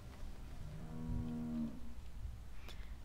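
A single cow moos once, a low drawn-out call in The Walking Dead video game, faint and set against soft background ambience with no speech.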